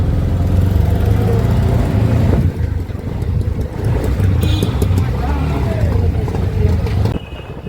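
An auto rickshaw rides through Mysore city toward the bus stand, its engine and road rumble loud and steady with wind buffeting throughout, then easing near the end.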